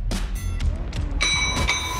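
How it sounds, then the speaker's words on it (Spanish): A boxing ring bell clangs to start round six at a professional bout in Mexico City, ringing with bright sustained metallic tones amid thuds and arena background noise. "Suena la campana, vámonos recio"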